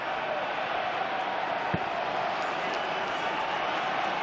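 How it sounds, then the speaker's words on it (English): Rugby stadium crowd at a Leinster versus Munster semi-final, a broad steady roar of cheering fans behind commentary, with one brief thump partway through. "You just hear the crowd now"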